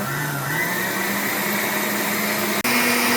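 An electric mixer whirs at high speed, creaming pound cake batter with eggs. The motor's close, steady whine shifts pitch slightly as it runs, with no talking.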